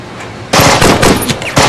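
Gunfire from an action film, a sudden burst of rapid automatic shots after a quiet start, loud and close, with a short pause and another burst at the end.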